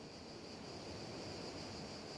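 Mediterranean sea waves at Moneglia, Italy: a soft, steady wash of surf with a faint hiss, distant and quiet, heard alone without any voices.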